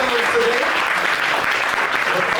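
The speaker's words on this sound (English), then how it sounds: "give a hand clap for all of our panelists today" Audience applause for a panel of songwriters at a music industry event, a dense, steady wash of many hands clapping that stays loud and unbroken throughout.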